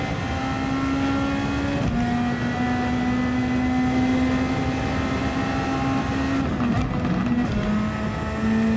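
A Superformula race car in Gran Turismo 7 at Suzuka holds a loud, steady engine whine that shifts pitch and sags as the engine bogs down, with no talk.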